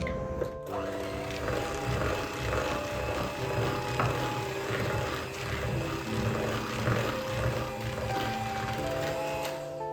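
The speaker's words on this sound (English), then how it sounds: "we are going to use our blender and start blending it" A blender runs continuously, blending eggs into coffee cupcake batter with a steady, loud whirring motor hum and busy mechanical rattle after a brief start.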